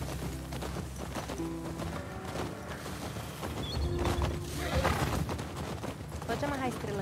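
A horse's hooves clop in The Last of Us Part II, with a possible whinny, amid game sounds and a continuous background hum. People talk over it.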